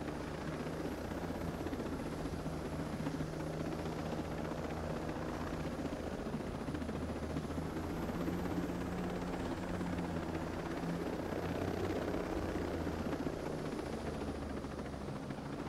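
A helicopter in the Ghost Recon Breakpoint video game, its rotor and engine making a loud, steady, continuous thrum and whine throughout, with no talking.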